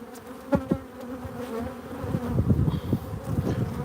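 Honeybees buzzing around an open hive during a brood frame inspection, a steady busy drone with several brief louder passes as bees fly close, no talking.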